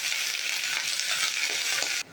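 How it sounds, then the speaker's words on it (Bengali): Boiled bottle gourd greens hitting a pan of frying onions and tempering spices, giving a loud, dense hiss that holds steady for about two seconds, then drops away abruptly. "এখন আমি লাউ শাকগুলো দিয়ে দেব"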